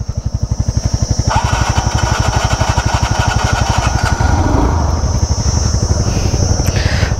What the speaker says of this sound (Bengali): বাইক করে দিয়েছি কোল্ড স্টার্ট